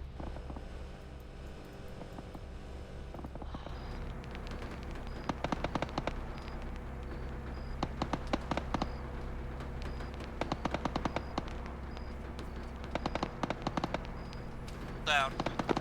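Gunfire in a military simulation game during a mechanized infantry operation, with repeated bursts of sharp shots in clusters over a steady engine-like rumble, while people talk over radio.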